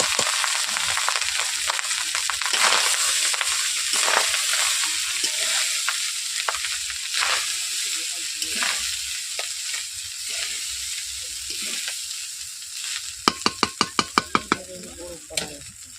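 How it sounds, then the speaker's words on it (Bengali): Rice fries and sizzles in ghee in a wok with cashews, hissing steadily while it is stirred. Near the end comes a quick run of sharp knocks from a spoon against the wok. "কড়াইতে আমি চাল দিয়ে দিচ্ছি"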